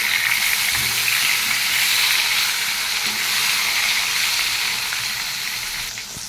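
Ginger paste and chopped tomato sizzle steadily in a hot pan, a continuous close frying hiss with faint stirring scrapes and no talk.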